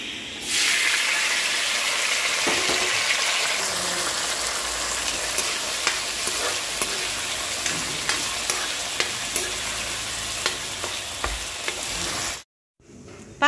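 Dal fries in a pan with a continuous bright sizzle and hiss, broken by regular soft stirring clicks, all close and steady until it cuts off abruptly near the end.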